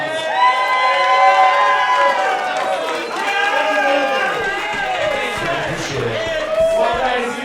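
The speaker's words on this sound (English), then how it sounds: "If you feel like Josh Creed won that one round of applause." A roast battle comedy audience cheers, whoops and claps to vote for a round winner, loud overlapping shouts and applause from a packed room.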